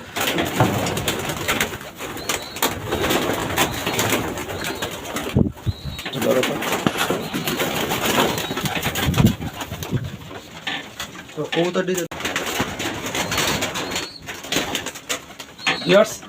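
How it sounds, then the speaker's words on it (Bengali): Racing pigeons coo repeatedly in soft, throaty bursts in a rooftop loft, many birds close together, with occasional wing flutters and a voice talking over them. "এখানে প্রায় পঞ্চাশ পেয়ারের মতো কবুতর আছে"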